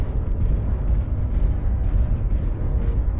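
Weapon fire in a mech combat game during a clan war match: a loud, continuous booming rumble of explosions that rolls on without a break, with no voices over it.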